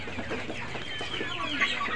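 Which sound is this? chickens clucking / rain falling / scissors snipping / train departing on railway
chickens clucking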